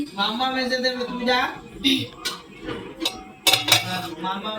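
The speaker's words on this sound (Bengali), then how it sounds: "এবার ঢাকনাটা খুলে দেখবো।" A metal lid comes off a pot of cooked lote fish with a few light, close clinks and clatters after a stretch of talking.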